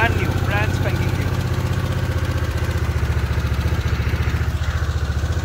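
A brand-new Harley-Davidson Sportster S motorcycle idles nearby with a steady, loud, throbbing engine note, while someone talks over it throughout.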